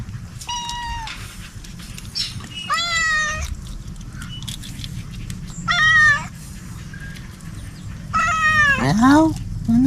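A cat meows four times in clear, drawn-out calls spaced a couple of seconds apart, fairly close, over a low background rumble of household noise.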